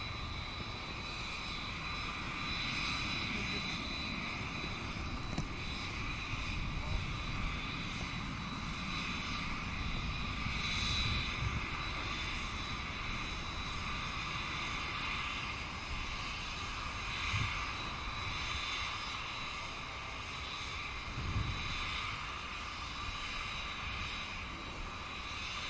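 A Boeing 787 Dreamliner jet climbing out after takeoff at Manchester Airport, crabbing slightly into a crosswind, gives a steady, broad engine roar at moderate distance that holds evenly throughout, with a faint whine above the rumble.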